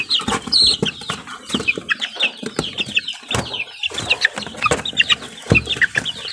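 Young chicks and chickens are fed grain in the morning. Their clucks and high peeps repeat busily at close range, with short scratching and pecking noises between them and no voices.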